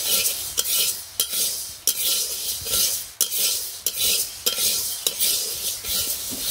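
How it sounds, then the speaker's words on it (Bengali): Mung dal dry-frying in a pan in a village kitchen, with a spoon repeatedly stirring and scraping against the metal in a regular rhythm over a soft hiss, close, with no voices. "মুগের ডাল রান্না করবা। এটা আগে ভেজে নিতে হয়।"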